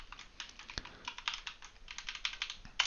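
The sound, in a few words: typing on a computer keyboard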